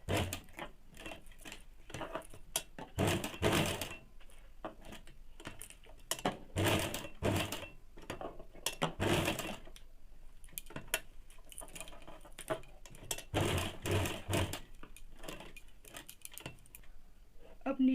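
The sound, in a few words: sewing machine stitching ladies' pant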